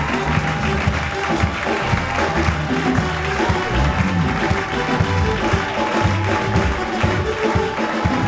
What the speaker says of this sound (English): we are going to give Jesus a round of applause